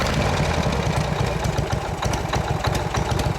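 A warm 1981 Harley-Davidson FXS Lowrider motorcycle idles close by, low and even with a regular pulsing throb that continues throughout, with no voices.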